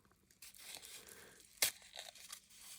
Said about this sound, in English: What I'm going to do is peel this back, and this is sort of a papery type thing.